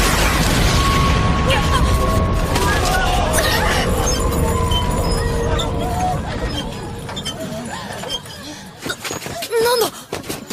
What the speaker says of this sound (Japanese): なんだ？ 爆発か？